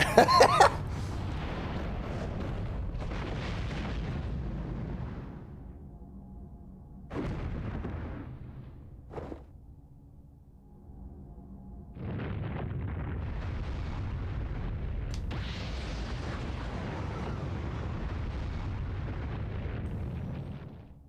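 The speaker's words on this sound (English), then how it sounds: "Well, there goes Ryu. He's just exploded." Ryu blows apart in Asura's Wrath with heavy, booming blasts: a sharp burst, then several loud rumbling surges separated by quieter pauses, ending in a long sustained roar.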